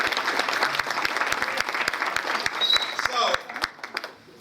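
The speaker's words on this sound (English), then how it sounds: "Give them a round of applause." An audience gives warm, sustained applause at a mural unveiling, a dense clapping crowd heard close and fading out near the end.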